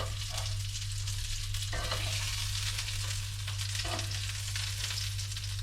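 Battered popcorn crayfish frying in hot oil, a steady close sizzle and crackle throughout with a constant low hum beneath and occasional soft stirring bursts.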